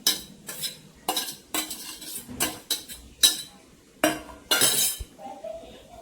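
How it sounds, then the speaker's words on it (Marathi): A metal spoon stirs butter corn with chaat masala, butter and coriander in a bowl, making about a dozen irregular bursts of clinking and scraping against the dish, close up with quiet pauses between strokes. "चांगलं मिक्स करून घ्यायचं"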